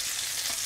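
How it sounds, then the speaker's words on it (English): Spring lamb pieces brown in hot garlic-infused oil, a brief steady hiss of bright sizzling, close and even, no talking. "And I'm gonna start adding the spring lamb."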